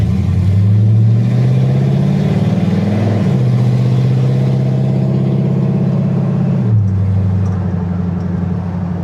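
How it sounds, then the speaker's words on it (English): An LS-swapped 1971 C10 pickup on the move, its exhaust giving a loud, steady low drone whose pitch rises with acceleration and drops at two gear changes. "I forgot how droney this thing is. I really do not like the exhaust."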